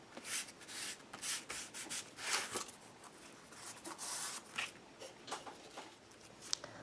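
Ink is smudged over corrugated cardboard in quick, close rubbing strokes, a rhythmic series of scratchy swipes with short pauses between them.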